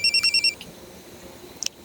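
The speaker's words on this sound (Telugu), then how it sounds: "ఫోన్ వస్తుంది." A mobile phone rings indoors in a village. There are five quick, bright electronic tone pulses at the start, then quiet room noise and a short beep near the end.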